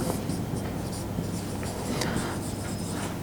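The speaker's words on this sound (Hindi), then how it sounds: "तो अब मैं फर्दर लिखता हूँ" Marker or chalk scratches against a board during a physics lecture on alternating current circuits, a faint, steady writing sound over low room hum with no talk.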